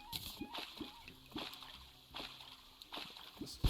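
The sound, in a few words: water leaking and splashing in Terraria, from a video game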